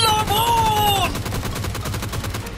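Rapid automatic gunfire from a teammate in the BGMI mobile battle royale game, a steady stream of sharp, evenly spaced shots that follows a short tonal in-game sound.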